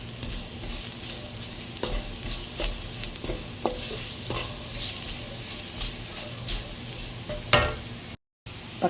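Onions and masala spice powders sautéed in a pan for a Kerala-style chicken curry, continuous sizzle with rhythmic scraping stirs throughout, a low steady hum beneath and a brief dropout near the end.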